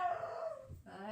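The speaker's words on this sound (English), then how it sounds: "All right, that's just my dog." A beagle cries with a drawn-out, falling whine and howl, close and fairly loud, with no talk over it.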